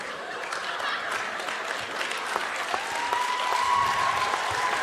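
An audience at a Kazakh KVN comedy contest applauds steadily for about five seconds, a broad even wash of many hands clapping with faint crowd noise.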